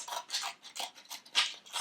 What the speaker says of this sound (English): use your scissors to cut along those lines like this